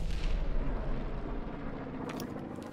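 Mortar rounds firing in the video game Empire 2, a dense rumbling barrage of low booms rolling continuously with sharper distant cracks near the end, loud and without talk.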